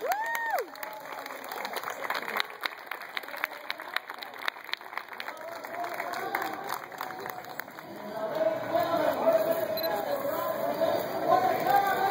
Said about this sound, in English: let's give our other 7 a big, huge round of applause